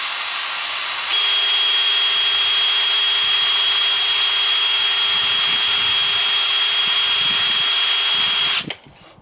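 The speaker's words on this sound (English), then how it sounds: "That drill going." A power drill whirs loudly and steadily for several seconds close by, then winds down and stops abruptly.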